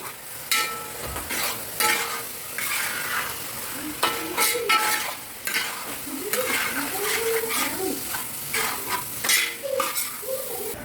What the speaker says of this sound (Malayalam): രണ്ടര ടേബിൾ സ്പൂൺ മുളക് പൊടി ഇനി ചേർത്ത് നമുക്ക് ഇളക്കി യോജിപ്പിക്കാം